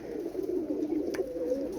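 Pigeons cooing in a loft: soft, low, warbling coos running continuously for a couple of seconds, close by and fairly quiet.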